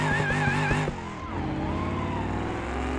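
An old police car in the BeamNG Drive driving game revving hard with a wailing engine note, then a sudden cut as it launches, followed by a lower straining engine drone and scraping rumble.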